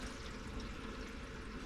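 Water rushes steadily into a SimPure T1-400 tankless reverse osmosis system with remineralization, a continuous broadband hiss and gurgle of filling at moderate level, with no voices.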